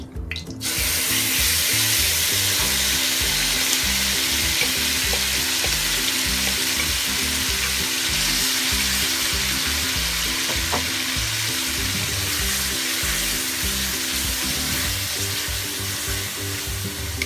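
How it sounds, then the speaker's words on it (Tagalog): Marinated beef for Filipino beef steak fries in a hot pan with a loud, steady, continuous sizzle and crackle close up, with no talking throughout. "So ipa-fry na po natin ang ating beef, marinated beef."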